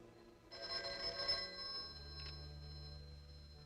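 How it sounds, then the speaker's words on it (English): An old telephone bell rings once in a bright, sustained trill lasting over a second, followed by a low steady hum. "I don't think the telephone bell is working. Will you test it?"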